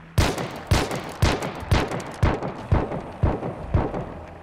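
Eight sharp gunshots fire at an even, steady pace in the game Hunt: Showdown, each a loud crack with a short decaying tail.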